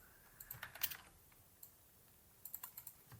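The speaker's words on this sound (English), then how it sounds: "Just click Ctrl-C on your keyboard." Computer keyboard keys are pressed for a Ctrl-C shortcut, producing a few quiet, close clicks in two short bursts separated by a pause.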